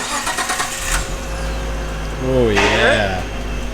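A car with a stock RB engine cranks and fires up, a short starter whir followed by a rising, rumbling catch into a steady idle, close and loud, with someone briefly speaking at the start.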